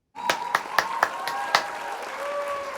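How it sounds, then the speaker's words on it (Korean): Applause during a Korean calligraphy lesson: about six sharp, separate claps in the first second and a half, close and fairly loud, over a steady sustained tone that carries on after the clapping stops. "땀 흘리며 최선의 길을 걸어오신 여러분들께 박수를 보냅니다."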